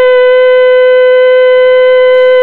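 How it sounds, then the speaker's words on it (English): A police siren sound effect from the Totally Spies! 2 DS video game plays as one loud, steady electronic tone held throughout, with no talk. "That's the sound of the police!"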